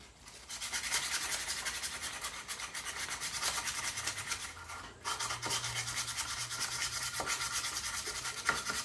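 A wooden spokeshave's blade is sharpened on a 120-grit sanding block, producing steady rhythmic rasping strokes that pause briefly around midway and then resume, all up close.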